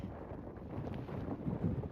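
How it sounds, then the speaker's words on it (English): Steady wind rushes and buffets across the microphone in a low, continuous roar on a mountain trail near Goat Rocks, Washington, before sunrise, with no other distinct sounds. "It's a little windy"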